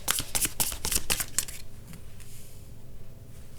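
Tarot cards shuffled by hand in a quick run of riffling, slapping bursts, close and crisp, fading after a second and a half into quiet room noise.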